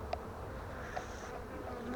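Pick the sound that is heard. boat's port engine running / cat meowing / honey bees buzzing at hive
honey bees buzzing at hive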